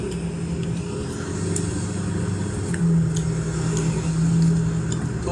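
Cars drive past at night on a city street, a steady engine drone swelling twice as vehicles go by, fairly loud with no talk.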